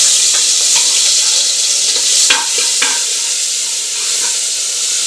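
Crushed garlic and ginger sizzle and crackle in hot coconut oil while being stirred, a bright continuous frying hiss broken by a few scraping stir strokes, close and loud.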